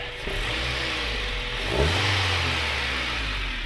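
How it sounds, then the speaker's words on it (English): A 1992 Acura Integra GSR with a new catalytic converter runs at a steady, quiet idle, its smooth exhaust hum close by, with one brief blip of revs in the middle and no talking. "The exhaust has a decent sound. It's very quiet."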